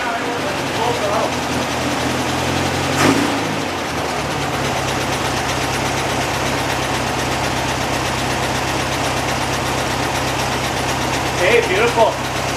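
Pink 1969 Volkswagen Beetle engine idling steadily at close range, running for the first time in 14 years, with a brief throttle blip partway through and voices talking over the running engine.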